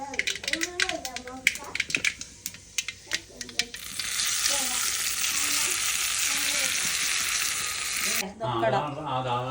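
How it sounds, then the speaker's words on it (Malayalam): Tempering for mango curry, made in a village kitchen, fries in hot oil with a loud, steady hiss that fills the middle of the clip after some clattering stirs, with people talking at the start and end. "ഇത് നമുക്ക് മാങ്ങാക്കറിയിലേക്ക് വറുത്തിടാം."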